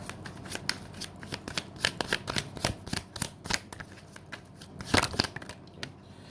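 Tarot cards are shuffled in a rapid series of riffling flutters and slaps, then handled and drawn. The sound is close and fairly crisp, and there is no talking.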